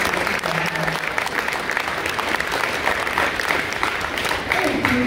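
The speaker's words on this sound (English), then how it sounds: "Okay, but we can still give him a round of applause." Audience at a fall school choir concert applauds, a full, steady patter of many hands with a few murmuring voices mixed in.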